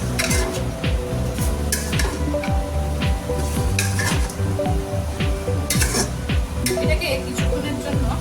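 Onions frying in a pan for chicken biryani, a loud hiss with rhythmic scraping and clinking of a metal spoon stirring against the pot, a voice talking over it.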